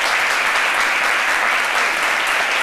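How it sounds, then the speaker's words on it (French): A studio audience on a French television talk show breaks into dense, steady applause that fills the whole moment loudly, with no gaps. "Merci de l'applaudir."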